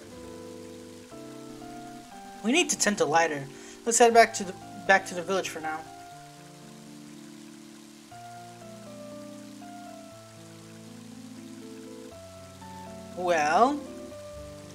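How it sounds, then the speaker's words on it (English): Steady pixelated rain from the video game Mother 3 hisses softly beneath stepped chiptune music, with characters' voices breaking in for a few seconds near the start and again near the end. "And now it's starting to rain."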